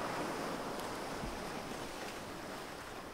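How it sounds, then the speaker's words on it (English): Sea surf surging and washing all around a ship on open water, a steady broad rush with some wind, continuous and moderately loud throughout with no voices. "All he heard was the surge of the sea all around him."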